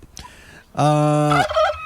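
A wild turkey gobbles once, loud and close: a brief rattling burst after a short quiet lead-in, then a faint trailing call.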